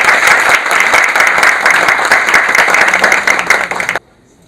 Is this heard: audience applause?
yes